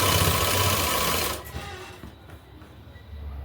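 A sewing machine stitches the edge of a suit, its rapid motor whir running loud and steady for over a second before cutting off, leaving a quiet room with faint handling noises.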